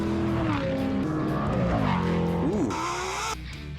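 Race cars roar past at speed with tyres squealing and skidding, engines rising and falling in pitch over a constant loud roar, ending in a sharp screech.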